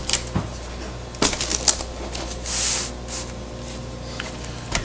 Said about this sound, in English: let's go ahead and get this keyboard off here